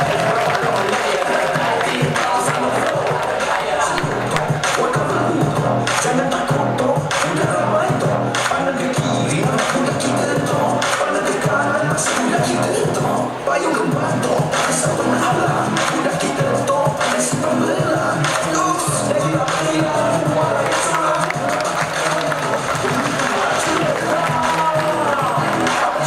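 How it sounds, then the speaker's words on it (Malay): A loud, dense wall of crowd applause and cheering fills a New Year's Eve gathering, with continuous clapping and shouting voices sustained for over twenty seconds without a break. "Kita berikan tepuk"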